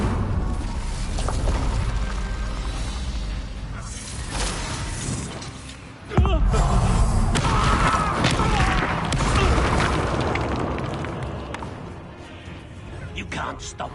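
Bombarda spell blasts in the Hogwarts Legacy video game, heavy booming crashes and clattering impacts amid a busy battle, with voices calling out over the din.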